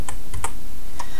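Arrow keys on a computer keyboard tapped a few times, crisp close clicks in a quick uneven cluster followed by one more tap after a short pause, no talking.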